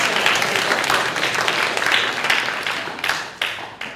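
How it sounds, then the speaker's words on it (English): Audience applause at a communication skills session, a dense, steady patter of many hands clapping throughout with a few sharper claps near the end, fairly loud and without speech. "Come on, give you a round of applause."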